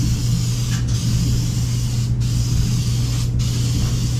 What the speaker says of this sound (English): trying to use that old can of spray adhesive